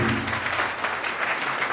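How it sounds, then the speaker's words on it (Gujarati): Audience at a reading-room inauguration held by the Vankar Seva Sangh in Chandkheda, clapping together; a brief, full, steady round of applause, close and loud throughout. "તાળીઓના ગણગણાટ સાથે આપણે વધાવીએ અમે।"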